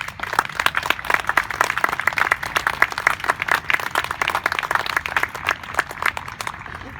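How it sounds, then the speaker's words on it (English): A rally crowd applauds steadily for the youth who shared their story, dense overlapping claps sustained from start to finish at close range with no speech over them. "we need to give another round of applause to the youth that shared their story"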